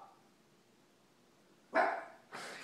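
A puppy lets out two sharp, close barks in quick succession after a stretch of near silence.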